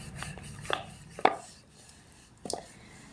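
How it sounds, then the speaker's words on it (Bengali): A rolling pin rolls a ball of dough thin on a flour-dusted wooden board for Mughlai paratha. It gives soft rubbing rumbles broken by a few sharper knocks as the pin shifts and taps the board. "এবার রুটির মতো পাতলা করে বেলে নেব।"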